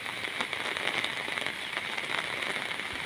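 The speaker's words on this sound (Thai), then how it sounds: "ถ้ามาชมบรรยากาศช่วงฝนตก" Heavy storm rain pours down in a constant dense hiss, with drops pattering on a hard surface nearby.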